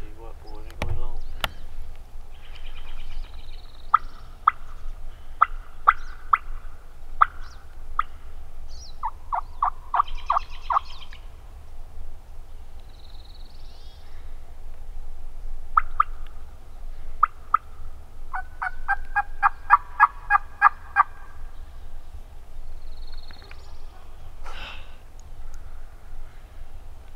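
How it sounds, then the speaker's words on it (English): Wild Merriam's turkeys gobble in a national forest, sounding off at a dog. Several separate rattling gobble bursts come from a distance over a low steady background hum, with scattered clicks and calls between them. "They gobble at the dog, honey."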